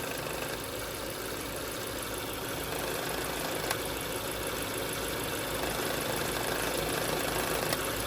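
An idling Hyundai engine gives off a steady, dense mechanical rattle with a constant hum, close and unbroken throughout, with one or two faint ticks on top.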